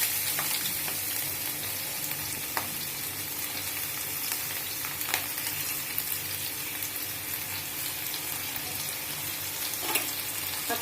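Onion frying in hot oil and ghee in a pan for green Hyderabadi chicken, a continuous crackling sizzle with occasional utensil clinks and spits, close and alone.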